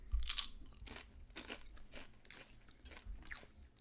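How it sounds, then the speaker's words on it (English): Food with Southern sauce crunched and chewed right at the microphone, a series of loud, close crunchy bites in an uneven rhythm with no speech. "I'm sorry to crunch right in the mic"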